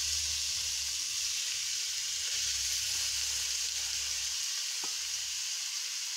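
Grated carrot frying in ghee over medium heat, a steady close hiss of sizzling broken by a few light clicks and scrapes from stirring.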